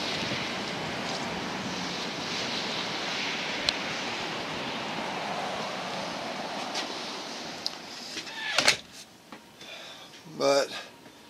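Strong gusting wind rushes steadily around a spinning home wind turbine in rural Missouri, a loud broadband whoosh that swells and fades, ending with a few sharp knocks and rattles close to the microphone.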